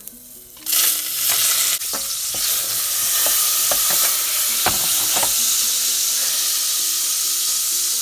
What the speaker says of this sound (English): Okay, I'm going to fry the onion. So I'm going to saute the onion.